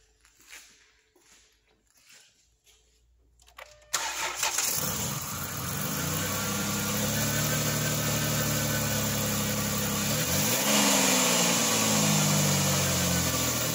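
A dark blue 2010 Volkswagen Routan SE minivan with front-left damage cranks and fires up after some faint rattling, then settles into a steady, moderately loud idle with a slight rise in engine pitch near the end.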